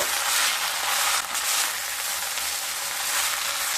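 Moringa leaves fry in a pan as they are stirred, giving a steady, loud, close sizzle that carries evenly throughout with a brief dip partway.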